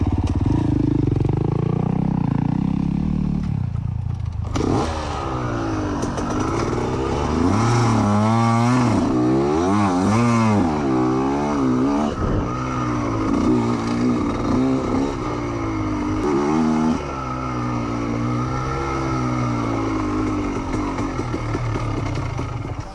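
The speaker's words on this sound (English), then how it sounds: "Dirt bike." A dirt bike engine on a trail revs and rises and falls in pitch, loud and close, with a rough, continuous motor note throughout and no talking.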